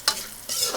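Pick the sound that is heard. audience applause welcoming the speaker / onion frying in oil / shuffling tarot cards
onion frying in oil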